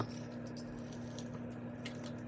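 Soft, wet squishing and pattering as beer batter with garlic salt is stirred in a bowl, a steady muted sloshing with faint scrapes, no talk.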